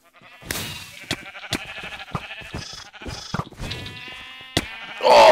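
Several sheep bleats from a red-versus-blue team sheep quest video game, arriving in short repeated calls with sharp clicks between them, fairly close and clear with no talk over them.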